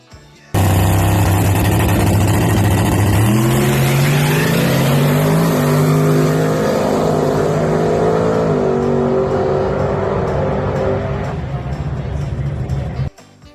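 A no-prep drag race car making a full pass, its engine blasting in suddenly at full volume and climbing through gear changes in a loud, sustained roar before cutting off abruptly near the end.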